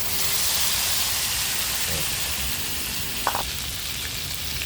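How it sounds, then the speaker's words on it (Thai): Thai curry paste stir-frying in a hot pan for stewed pork leg, a continuous close sizzle and hiss with a brief scrape of the utensil near the end. "แล้วก็มาผัดพริกแกงหอม"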